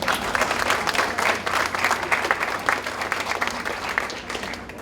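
A roomful of people applaud steadily at a talk on the legacy of Pope Francis, the dense clapping continuous and fairly loud throughout with no voices over it.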